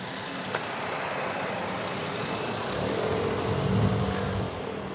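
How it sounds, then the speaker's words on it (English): A car passes along a quiet residential street in Japan, its engine hum swelling gradually from faint to moderately near before easing off, with no talk over it. "Oh, there's a car."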